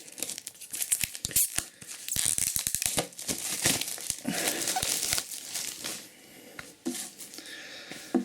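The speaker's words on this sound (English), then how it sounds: "let's unwrap." Shrink-wrap is torn and peeled off a hardback Genestealer Cults Codex book for Warhammer 40K, a close, busy run of crinkling and tearing plastic with short pauses between rips.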